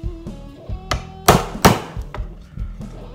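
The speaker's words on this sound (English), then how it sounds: "So I'm going to take the chisel" A chisel strikes into a wooden guitar body to cut a pickup opening, giving a series of sharp, close taps and thwacks with two louder hits near the middle.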